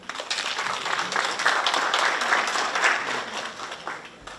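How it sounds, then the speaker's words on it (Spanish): A conference audience applauds to welcome a speaker at a water-day lecture series, a dense, steady wash of many hands clapping that swells through the middle and thins out toward the end. "Recibámonos con un caluroso aplauso."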